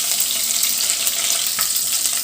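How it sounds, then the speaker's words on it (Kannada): Dried red chillies and curry leaves frying in hot oil give a steady, close, bright sizzle that runs unbroken throughout, with faint crackles and no voices. "ಇದನ್ನು ಇವಾಗ ಸ್ವಲ್ಪ ಚೆನ್ನಾಗಿ ಫ್ರೈ ಮಾಡ್ಕೊಳ್ಳೋಣ"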